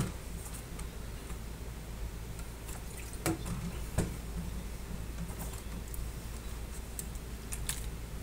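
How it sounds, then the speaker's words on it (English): Faint, irregular clicks of someone typing on a computer keyboard during an online community call, a soft scattering of keystrokes over a steady low background hum with no talking. "Somebody's typing."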